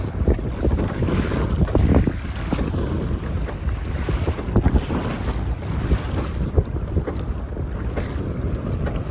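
A boat rides choppy summer waves on Lake Texoma, with steady rushing water and slapping chop under heavy wind buffeting the microphone throughout.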